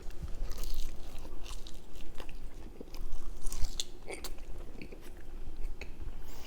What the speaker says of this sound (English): The chicken a little dry today, kind of hard to chew.